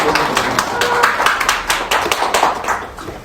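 A room at a disability-rights forum breaks into brisk, close applause of many hands clapping steadily, with some talk mixed in.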